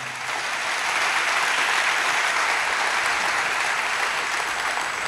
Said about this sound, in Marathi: त्यांच्यासाठी एकदा आपण टाळ्या वाजवून त्यांना